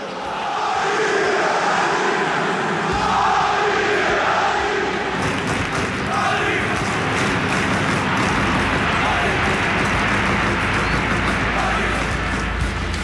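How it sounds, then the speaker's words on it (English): Stadium crowd chanting and cheering in a FIFA football video game, a dense, loud roar of many voices that swells and continues steadily throughout, with a louder, fuller surge midway. "with more than 900 new crowd chants, you'll be able to sing your way to victory"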